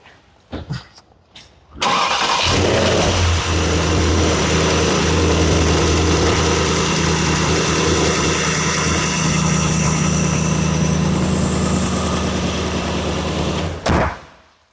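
A 2014 Porsche Panamera GTS with a 4.8 liter V8 cranks briefly, fires up with a loud roar, then settles into a steady, deep idle close by before cutting off.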